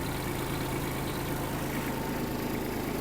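A Kubota GB-15 Japanese mini tractor runs with its rotary tiller engaged, giving a steady, close, continuous engine drone with low vibration and no pauses.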